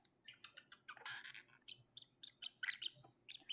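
A pet baby bird indoors chirps in quick, high, faint tweets, a steady run of short calls close by, with no voices.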